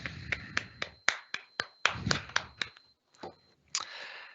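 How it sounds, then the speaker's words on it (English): Sparse clapping for students honored at a virtual recognition ceremony, about a dozen sharp separate claps with gaps between them, close and quiet, ending in a brief rustle. "Please join me in giving them a round of applause for this outstanding achievement."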